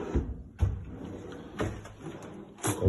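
Kitchen drawers and cupboards in a shared flat's kitchen are opened and shut, giving several separate sliding thuds and clacks at an even pace, fairly close by, with no voices.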